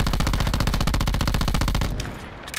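A rapid burst of automatic fire from an SOG gun in a video game, loud and evenly spaced, stopping abruptly with a short trailing echo.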